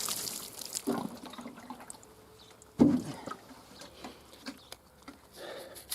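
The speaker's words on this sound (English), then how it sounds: "The first thing is water the soil," Water poured onto garden soil to give it a thorough pre-soak before planting maincrop potatoes: a soft, faint trickle and patter over a quiet outdoor background, with one brief louder splash partway through.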